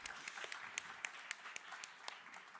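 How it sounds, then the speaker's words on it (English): Small audience at a library festival clapping after a song, faint scattered applause with individual claps audible, heard from a distance and without talk. "Can we get a round of applause for that?"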